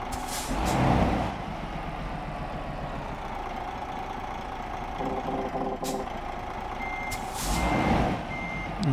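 A truck backs up in Euro Truck Simulator 2, its reversing alarm beeping steadily over a low idling engine, with a couple of louder air-brake hisses along the way.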